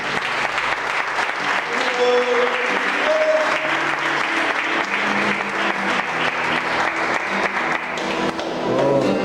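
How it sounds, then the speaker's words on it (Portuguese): A church congregation applauding, dense sustained clapping from many hands with some voices rising above it, loud and continuous for several seconds. "Vamos aplaudir o Senhor."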